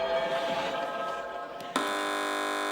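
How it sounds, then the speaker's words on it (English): A quiz buzzer sounds on the panel news quiz Have I Got a Bit More News for You, a loud, sustained harsh electronic tone that starts sharply after a moment of studio murmur and holds to the end. "Fingers on buzzers, teams."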